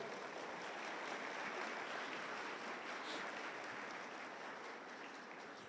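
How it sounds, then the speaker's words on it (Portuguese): A church congregation claps together in praise to the Lord, a continuous wash of many hands heard from within the room, fairly soft and unbroken, with no speech over it. "Vamos aplaudir ao Senhor."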